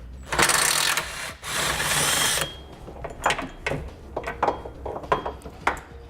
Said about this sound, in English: we'll be using a 16 millimeter socket to pull those out.